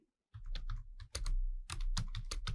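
Someone types a formula on a computer keyboard, producing close, crisp keystroke clicks in quick irregular bursts after a brief silent start, with no talking.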